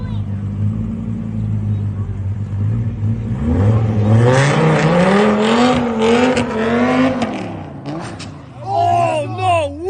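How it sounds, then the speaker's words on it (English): A car revving hard and accelerating, its engine note climbing and falling in strong sweeping tones, loud and near, with voices talking over it throughout. "He just fucking hammered a car."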